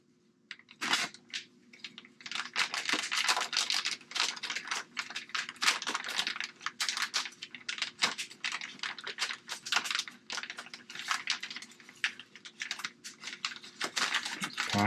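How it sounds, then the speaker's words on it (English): Plastic packaging of Treal toe link parts for a Traxxas XRT being cut and torn open, a busy run of crisp crackles, snips and rustles close up, continuous for the whole stretch with no talk. "I'm going to go ahead and cut these Treal units open."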